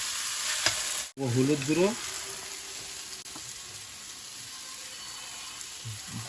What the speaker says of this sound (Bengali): একটু ভুনে নিব, তারপরে মশলা দেব।